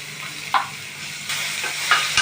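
Onion, coconut, ginger and garlic paste frying in a pan for a Konkan cashew usal, a soft continuous sizzle with a few brief stirring scrapes, close and steady at low level.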